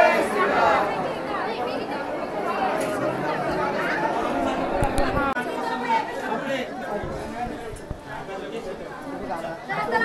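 Dense crowd chatter fills the darshan queue at Ekvira temple, a steady babble of many voices close around without pause, with occasional louder nearby talk rising out of the hubbub.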